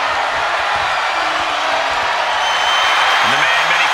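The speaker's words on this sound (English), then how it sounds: "when you can't hear yourself think because the crowd's so loud" Loud arena crowd roar from a WWE 2K24 ladder match between John Cena and Triple H, a dense continuous wash of cheering filling the whole clip, with faint commentary talk beneath it.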